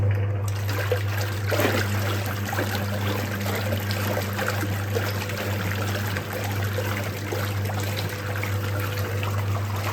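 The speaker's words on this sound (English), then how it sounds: "It's got a good brisk agitation on it." A Simpson wringer washing machine agitating its load gives a steady churning slosh of water over a constant low motor hum, continuous and close throughout.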